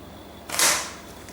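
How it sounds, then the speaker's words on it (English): A paper Mauser K98 toy rifle fires a single shot, a short sharp snap with a brief hissing release, close and alone against a quiet room. "push it in the chamber, lock your bolt, and we're gonna shoot that thing again"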